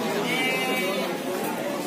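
Goats bleat amid the crowd at the Silir livestock market in Solo, a wavering cry rising over loud, constant chatter of many nearby voices.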